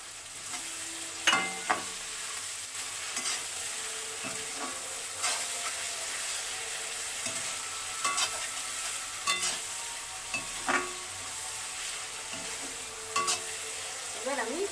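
Chilli chicken sauces, soy and chilli, sizzle steadily in a hot pan during stir-frying, a continuous bright hiss broken by occasional clicks and scrapes of the spatula.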